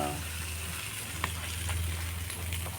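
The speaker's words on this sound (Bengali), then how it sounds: "মাংস কষানো, মাংস মাখা লেগেছে।" Meat being stir-fried (kosha) in a pan, giving a steady broadband sizzle with a low hum underneath and a few faint clinks of stirring, moderately close and continuous throughout.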